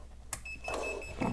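A digital multimeter on continuity mode, probing the pins of Maytag dishwasher controls, gives a thin, quiet, steady high beep after a sharp click, with faint handling noise around it.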